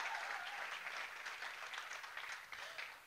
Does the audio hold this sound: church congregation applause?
yes